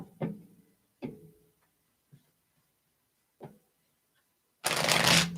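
Playing cards being shuffled and dealt out in a quiet room: a few separate soft slaps of cards laid down, then a loud burst of riffle shuffling at the end, with no talking.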